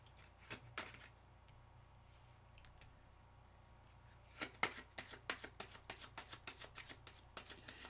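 Tarot cards are slid and shuffled across a table in a quiet room, giving a few soft swipes and then a rapid run of crisp flicks and taps, all close by and low in level with no talking.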